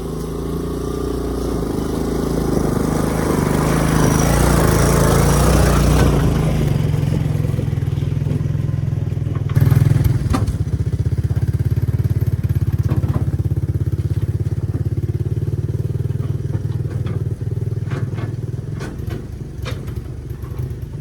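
An old three-wheeler ATV's small engine, hauling small logs, drones loud and steady, swelling as it works then settling into a rougher, clattering run, with a brief knock partway through and no voices.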